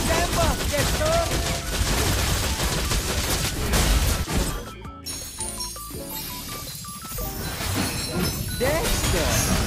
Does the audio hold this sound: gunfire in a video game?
yes